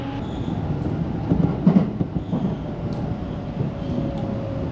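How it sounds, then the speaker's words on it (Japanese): A JR Tokaido Line commuter train runs between Osaka and Kyoto prefectures, a steady rumble with soft rhythmic wheel clatter heard from inside the car, alone and moderately loud. "電車は大阪府から京都府へ。"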